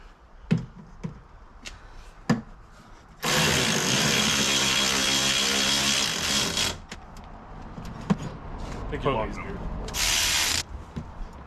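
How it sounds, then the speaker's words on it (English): A power drill drives screws into the side of an old motorhome: a long loud whir of about three seconds, then a shorter burst later, with scattered knocks and handling clatter between. "So, a couple of screws in the side."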